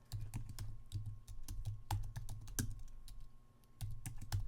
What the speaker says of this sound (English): I type in the password that I want.